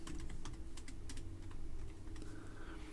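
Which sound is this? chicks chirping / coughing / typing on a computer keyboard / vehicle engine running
typing on a computer keyboard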